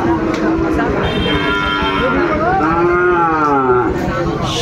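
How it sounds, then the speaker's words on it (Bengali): A Sahiwal bull calf, about seven months old, gives loud, long drawn-out moos at a busy cattle market in Dinajpur, Bangladesh, close by, with people murmuring in the background. "শাহিওয়াল ষাঁড়।"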